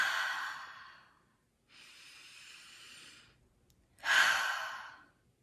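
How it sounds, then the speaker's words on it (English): Slow deep breathing in a quiet setting: a long exhale, a softer drawn inhale, then another strong exhale, each close and clear with silence between. "Even if you just take some deep breaths and close your eyes"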